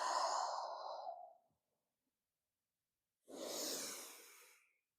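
Two long audible breaths during a vinyasa yoga flow, a deep exhale fading out, then after a quiet pause a strong inhale-exhale, close and breathy, with no talking.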